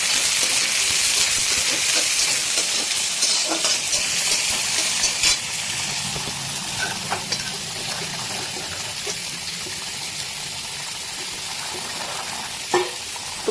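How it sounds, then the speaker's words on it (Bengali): Onion and green chilli frying in hot oil, giving a steady, bright sizzle with occasional pops and crackles that stays fairly loud and even throughout. "এদিকে দেখছেন পেঁয়াজ আর লঙ্কাটা ভাজা চলছে"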